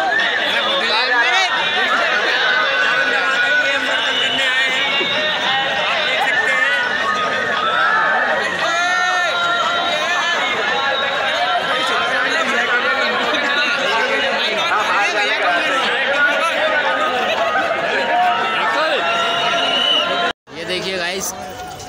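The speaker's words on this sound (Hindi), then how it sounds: "ये देखिए काफ़ी ज़्यादा ही भीड़ है यहाँ पे।" Dense crowd chatter fills Chamunda Mata temple in Dewas during Navratri, a steady loud babble of many voices with shuffling footsteps, continuous throughout before a brief dropout near the end.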